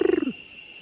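A single short orange-collared manakin call in Costa Rica: a loud, near, rapidly pulsed buzzy note that drops in pitch and cuts off, followed by quiet forest hiss.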